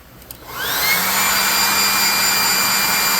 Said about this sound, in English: grab your blow dryer.